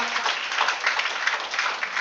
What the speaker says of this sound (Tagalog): Come on, yung pinakamalakas po palakpak.